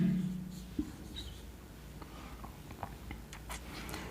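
Chalk or marker strokes on a classroom board during an English grammar lecture, soft scratchy taps and short squeaks spaced irregularly, faint and close, with no talking.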